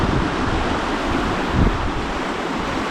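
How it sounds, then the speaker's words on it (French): Steady rushing wind buffeting the microphone beside a trout stream, a broad continuous roar with a brief stronger gust midway. "Le vent se lève."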